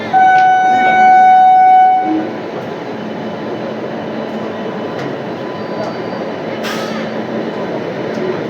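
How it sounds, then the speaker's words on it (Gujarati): A WAG 9 locomotive pulls the Porbandar-Rajkot train out on departure, sounding a steady two-second horn blast, then settling into a continuous close rumble and clatter of rolling carriages. "ચાલો ભાઈ આપણી ટ્રેને સક્સેસફુલી ડિપાર્ચર લઈ લીધું છે."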